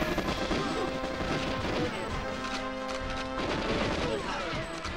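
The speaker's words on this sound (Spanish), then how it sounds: "pero están los disparos" Gunfire in the GoldenEye 007 video game, with repeated shots and crashing impacts mixed into steady game noise and music, fairly quiet overall.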